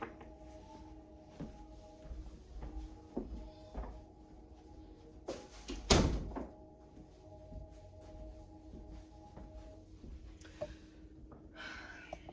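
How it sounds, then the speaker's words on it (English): An office door is shut with a single sharp thunk midway through, amid quiet room sounds and faint soft knocks before and after. "as soon as I shut my office door"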